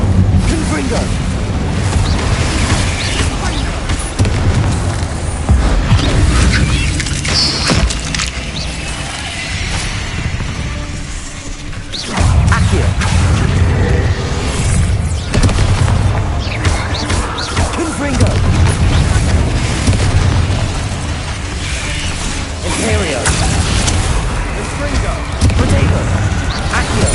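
Spell explosions from Incendio and Confringo in Hogwarts Legacy: loud, continuous booming, crashing blasts that fill the whole stretch, dense and close.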